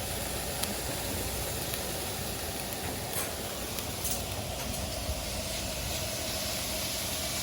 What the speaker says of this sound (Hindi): अब इनको स्टोव को हाई पे ऑन करके इसको सॉटे करेंगे और चिकन इसमें मिक्स कर देंगे।